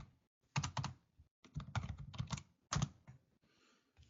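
Someone types a short command on a computer keyboard, with a few clusters of crisp key clicks in an uneven rhythm, fairly close and clear, then a quiet pause.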